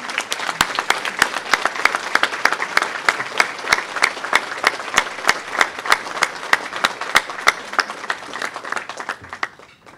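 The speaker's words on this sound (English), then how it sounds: "let's give them a big round of applause" An audience at an annual charity awards meeting applauds steadily for an award presentation, the dense clapping holding at an even level for the full stretch before easing slightly at the end.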